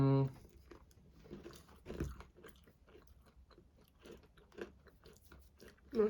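Crunchy M&M's cookies being bitten and chewed close up, with a few crisp crunches and softer chewing spread through the clip under quiet conversation.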